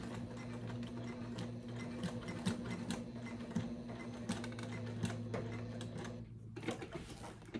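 A sewing machine top stitches a 1/8-inch seam on a Lola bag, producing a quiet, rapid, rhythmic needle clatter that runs continuously and stops near the end, with no talking.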